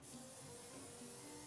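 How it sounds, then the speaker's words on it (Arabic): Cooking oil spray misted over seasoned food just before it goes into the oven, a steady close hiss running the whole time with no pauses and no talk. "بس بحط عليها شويه بخاخ بخاخ شويه زيت زيت"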